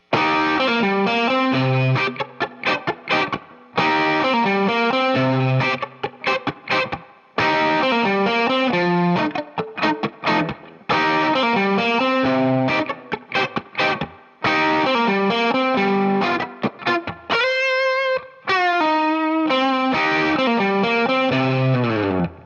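Distorted electric guitar plays a repeating blues pattern in short phrases with brief gaps, loud and up close, ending on a sliding note.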